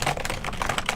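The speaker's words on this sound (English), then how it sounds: "Get on that keyboard, man." Rapid typing on a computer keyboard, a quick close run of crisp clicking keystrokes in an even burst with no voices.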